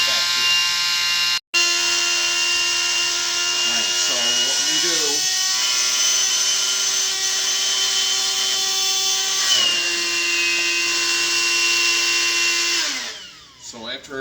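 A vacuum pump hums steadily and loudly as it sucks the air out of the storage chambers of a True Kit Discovery 4.0, the tone briefly dipping and shifting before winding down near the end, with a voice talking intermittently underneath.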